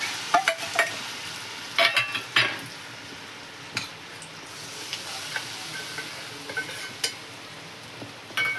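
Jaggery being stirred into oil in a pan while making peanut chikki: scattered scraping and clinking strokes of a spoon against the pan over a low sizzle, heard close and alone.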